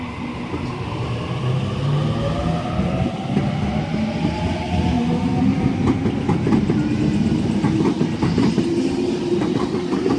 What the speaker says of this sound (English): And Series 1 Waratah A61 now departing platform number 1.